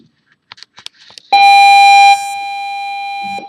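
A school bell rings loudly in a classroom as a sustained electronic tone that holds steady for about two seconds, then continues at a lower level. Faint sounds are heard just before it starts.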